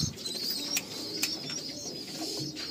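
Pigeons coo faintly in a pigeon loft, with soft throaty calls and occasional light chirps over a low, even background hum.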